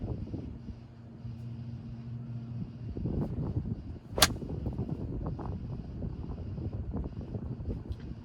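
A golf club strikes a ball out of the rough with low, crisp contact, heard as a single sharp impact over steady outdoor wind noise.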